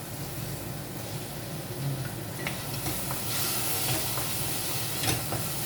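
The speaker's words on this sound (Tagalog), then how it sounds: "Gigirisin natin siya ng husto." Onion, ginger, garlic, chili and tomato sizzle steadily in a hot pan, a continuous close frying hiss with occasional stirring scrapes and no talk.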